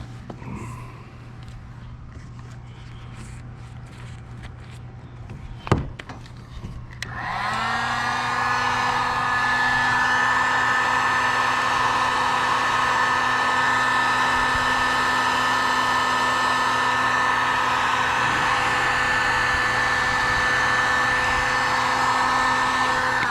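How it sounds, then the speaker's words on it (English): A heat gun blows hot air to shrink heat-shrink tubing over kayak light wiring on a Perception Outlaw 11.5. A click and a brief knock come first, then the gun starts and holds a loud, steady, close whooshing whine with a faint hum beneath. "Just flip that shrink wrap over top. Heat gun here."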